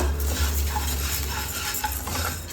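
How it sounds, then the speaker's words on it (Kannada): Lentils stirred and dry-roasted in a pan for chutney, a steady close scraping and light rattling of grains with a faint sizzle throughout, no voices. "ನೀಟಾಗಿ ಹುರ್ಕೋಬೇಕು ಈ ಕಾಳುಗಳೆಲ್ಲ ಕೆಂಪಾಗಬೇಕು ಅವಾಗೇ ಈ ಚಟ್ನಿಗೆ ರುಚಿ ಕೊಡೋದು"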